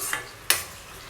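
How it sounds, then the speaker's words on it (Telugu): Oil sizzling softly under curry leaves in a pan, with two brief scrapes of a spoon stirring, the second louder and close. "మధ్య మధ్యలో మిక్స్ చేసుకుంటూ ఫ్రై చేసుకోవాలి"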